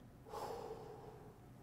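A single deep, relaxed inhalation during a brass-playing breathing exercise, a soft airy rush lasting about a second, close and quiet.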